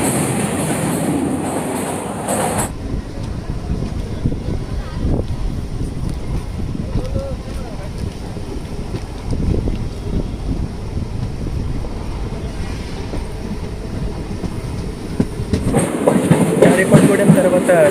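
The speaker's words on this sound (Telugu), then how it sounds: "ట్రైన్ అయితే మూవ్ అయింది." A Janmabhoomi Express passenger train rolls along the rails, heard from inside the coach as a continuous loud rumble with rhythmic wheel clatter, growing brighter and rattlier near the end; no speech over it.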